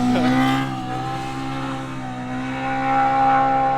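Race cars at a desert race roar past one after another, engines droning with steady pitch and swelling and fading as they go by, fairly loud.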